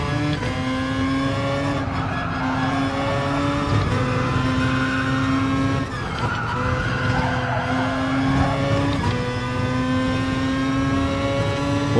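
A race car in the Gran Turismo Sport FIA Nations Cup, its engine droning and shifting pitch steadily throughout while tires squeal and skid loudly, with no talking heard.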